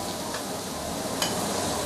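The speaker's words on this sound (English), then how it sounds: "Whoa, listen to the sizzling sound." Marinated pork sizzling on a tabletop grill for Korean BBQ at home, a steady broadband crackle and hiss that fills the short stretch, with a small sharper pop near the end and no voices.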